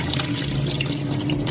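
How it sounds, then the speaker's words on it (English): Rice is washed in a pot of water for Ghanaian jollof, with water sloshing, swirling and dripping close up in a steady, uninterrupted stream of liquid sound. "So I'm washing my rice."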